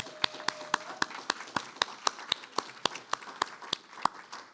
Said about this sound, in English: Can we have a big round of applause for all your incredible instructors?